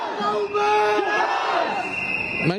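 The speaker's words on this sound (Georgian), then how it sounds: "შეძახილებით ამხნევებენ ახლა სტუდენტები და სოციმუშაკები ერთმანეთს" A crowd of student and social worker protesters in Tbilisi chants and shouts together loudly, voices blending into a sustained roar with a final rising yell.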